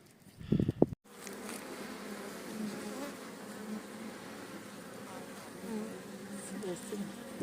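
Honeybees feeding on fondant hum in a dense, steady drone close by at the hive, following a brief muffled knock at the start.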